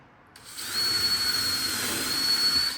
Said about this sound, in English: and then drill the pilot hole.